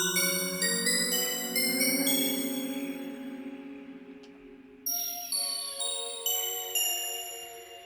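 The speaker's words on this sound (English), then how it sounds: "you want to look for anything that's kind of synthy, especially with the bells" Bright 1980s-style synth bells chime in repeated melodic strikes, each note ringing out and decaying, with a fresh cluster of struck tones entering midway; clear and alone, no voices.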